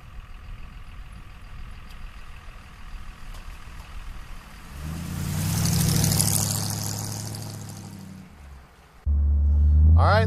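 A 1932 Ford coupe engine runs steadily, then swells into a louder rising drive-by roar around the middle before easing off, followed by a close, heavy low rumble at the end.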